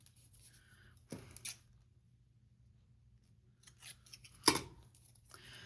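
Scissors trim the edge of ribbon trim for a quick craft frame, with two or three sharp, quiet snips separated by pauses and faint rustling of the material, close and alone in a quiet room.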